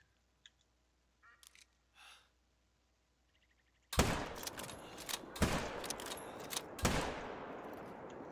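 Several loud, close gunshots ring out in a hunting video game set on a savanna, a sharp opening blast followed by a few more reports with echoing tails after a quiet stretch.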